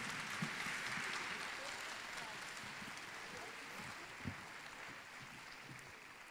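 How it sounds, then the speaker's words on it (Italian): Sustained clapping from an audience at a music recital fills the room, a steady even patter that slowly tapers, with a few louder claps standing out. "Applauso."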